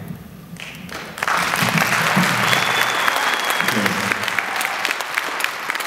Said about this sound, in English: please hold your applause, audience